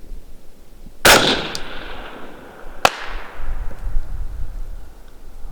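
Two rounds from a 5.56 rifle fired at long range: two sharp, loud cracks spaced nearly two seconds apart, each trailing off into a long rolling echo across open ground, with no voices.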